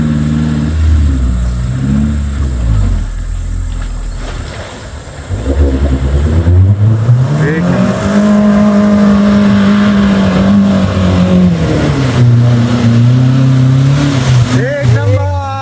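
A Maruti Gypsy off-road vehicle crosses a lake, its engine revving loudly and close with rising and falling pitch as it pushes through water, while people talk over it.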